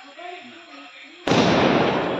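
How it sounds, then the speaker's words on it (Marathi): A firecracker bursts with one sudden loud blast, then a dense, sustained crackle and roar of fireworks follows at close range, with faint murmuring beforehand, at a village gathering for a Tulsi Vivah festival in Konkan. "बाब्या ॲटम बॉम्ब हातात लावतोय"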